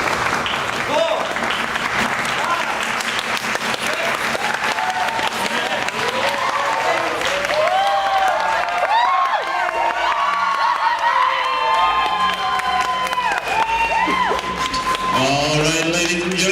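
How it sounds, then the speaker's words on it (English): A crowd at a Plymouth versus Waukesha Southland game applauds and cheers steadily throughout, with whoops and children's shouts, while an amplified voice speaks over the noise. "So we need to applaud for them."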